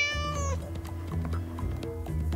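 Several cats meowing at an animal shelter, a high harmonic cry at the start followed by further meows and mews over a low steady background hum.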